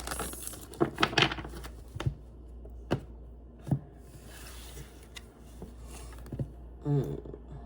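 Tarot cards are shuffled close up, with soft papery riffles, taps and brushing rustles coming in irregular bursts and no talk.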